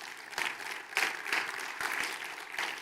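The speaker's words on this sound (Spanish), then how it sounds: "Denle un aplauso al Espíritu Santo" A church congregation claps together in steady, dense applause that swells in waves, fairly close and filling the room with no voices over it.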